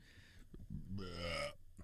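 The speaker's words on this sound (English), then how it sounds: "one burp" A single long burp swells up in the middle of a quiet indoor stretch, loud and close.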